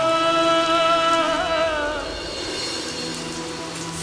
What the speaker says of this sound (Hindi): अगर बारिश हो रही है